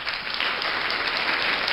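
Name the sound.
applause sound effect from sound card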